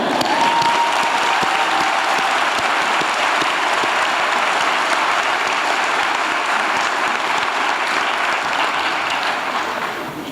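Graduation audience at a law school convocation applauding, a long sustained wave of many clapping hands, loud and full, tapering slightly at the end.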